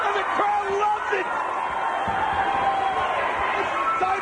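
Wrestling arena crowd at a TNA match cheering and roaring in a steady, dense wash, with a commentator talking over it throughout.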